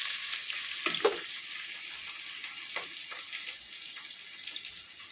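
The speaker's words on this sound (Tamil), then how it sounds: "வெங்காயம் போட்டு நல்லா வதங்கட்டும்" Chopped onion sizzles steadily in a little oil for paneer fried rice, a soft continuous frying hiss with a few brief clinks and stirring knocks, no talking.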